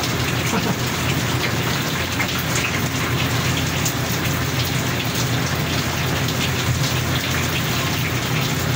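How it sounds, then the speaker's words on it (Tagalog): Steady, heavy rain pours down outdoors during a fishing trip in Zamboanga City, a dense continuous hiss of drops hitting surfaces with no let-up. "It's raining."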